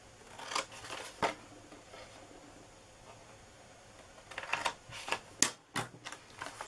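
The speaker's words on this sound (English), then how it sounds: "we're just going to cut down to that first score mark and just cut on the scoring lines." Scissors snipping cardstock along score lines for a belly band box, a few quiet crisp cuts early on, then a quicker run of close clips and rustling paper near the end.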